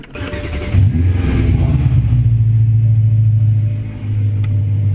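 BMW E92 with a V8 engine revving up from idle, a loud, close deep rumble that swells after a brief start and holds a steady throaty drone, easing slightly before building again, with no talk.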